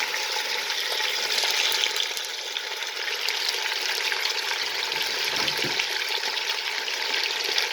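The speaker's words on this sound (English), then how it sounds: "brown the meat off in the heated oil" Beef browning in heated oil in a curry kitchen gives a loud, steady sizzle and crackle that runs without pause from start to end.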